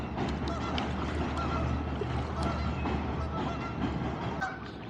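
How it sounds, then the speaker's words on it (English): Geese on a creek shoreline in Brooklyn give faint, scattered honks over a low steady background hum, somewhat distant and not loud. "Some geese up on the shoreline."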